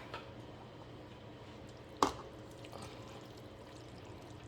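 A turkey and pan sausage pasta bake with wheat noodles is poured into a baking dish, a soft, steady, quiet pour broken once by a brief clunk partway through.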